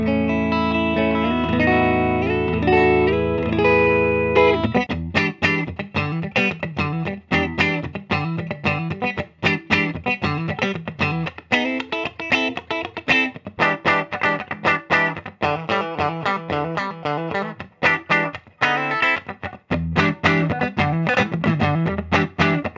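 A 2022 Gibson Custom Shop Mike Ness 1976 Les Paul electric guitar plays a clean tone on the middle pickup position, with sustained chords giving way to continuous rhythmic strumming and picked notes, loud and alone.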